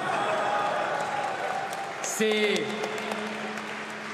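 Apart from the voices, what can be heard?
audience applause at a political rally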